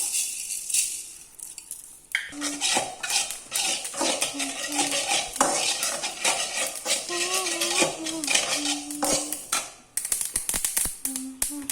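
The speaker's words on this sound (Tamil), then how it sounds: "அடுத்தது நம்ம எள்ளு நல்லா வறுக்கலாம்" A spoon or spatula stirs sesame seeds dry-roasting in a pan, giving a busy, continuous scraping and clinking with sharp metallic taps, close and fairly loud throughout. A brief quieter stretch comes first.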